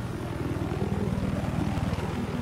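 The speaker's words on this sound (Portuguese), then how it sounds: "Deve ser o outro helicóptero vindo." Helicopter approaching in a video game, a steady rapid rotor chop with a broad engine roar, fairly constant and moderately loud throughout.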